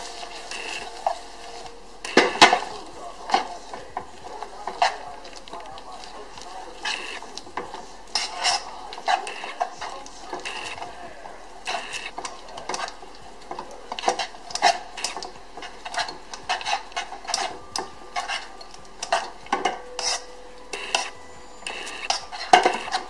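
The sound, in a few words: stirring melting Hershey's and Snickers in a pot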